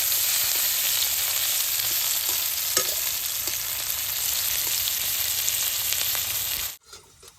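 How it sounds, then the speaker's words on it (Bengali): Onions frying in oil in a wok, a steady loud sizzle with faint stirring taps, cut off abruptly just before the end. "পেঁয়াজটা কি সুন্দর ভাজা ভাজা হয়েছে"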